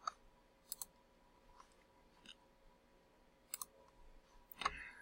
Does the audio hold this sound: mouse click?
yes